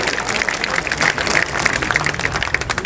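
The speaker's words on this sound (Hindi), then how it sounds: "महिलाओं के लिए सारा पुरुष एक बार ताली बजा रहे हैं" Men at a political rally in Bihar clap for the women present, a loud, dense burst of applause that continues steadily throughout.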